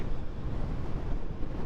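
Steady broadband wind roar buffeting a rider on a 2023 Honda Hornet motorcycle at speed, loud and continuous with no gaps and no talk.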